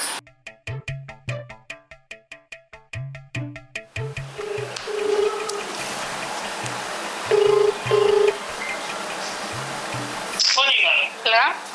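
Telephone keypad tones beep in a quick series of short, evenly spaced presses, followed by ringing tones on the line at a village home during the Ugadi festival, with voices talking over parts of it.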